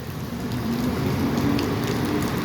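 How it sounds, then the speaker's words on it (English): Rain falling on a New York City neighborhood street, a steady broadband hiss with low traffic rumble underneath, continuous and fairly close with no voices. "Oh, raining. And I'm outside."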